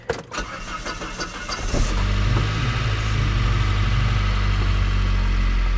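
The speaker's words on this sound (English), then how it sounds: "let's give her a crank. Let her run for a few minutes." A Saab 9-3 Turbo with engine flush added in its oil cranks briefly, catches, and settles into a steady, loud close-up idle that runs on evenly.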